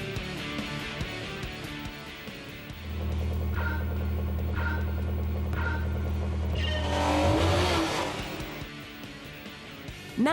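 Race car in Gran Turismo 4 driving through turns, a steady engine drone rising and revving mid-way with brief tire squeal and shifting pitch, loud and close with no talk.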